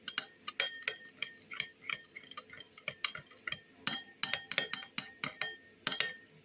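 A spoon clinks steadily against a dish while tomato sauce filling for fried hake is stirred until smooth, with rapid, irregular taps and scrapes close up and no talking.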